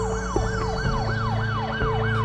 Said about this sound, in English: then you hear that ambulance sound